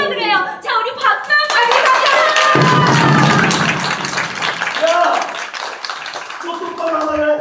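Audience members at a Seoul Theatre Festival stage play clap loudly in a quick burst, with voices and cheering mixed in, and the talk carries on over and after the clapping.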